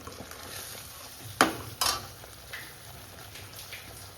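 Masala fries in a pan for a mushroom and pea curry, a steady close sizzle broken by two sharp spatula scrapes and a lighter clink, with no talking.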